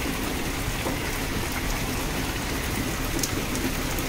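Heavy rain pouring outdoors onto plants and a filling tub, a steady dense hiss with patter that stays even throughout, with no voices.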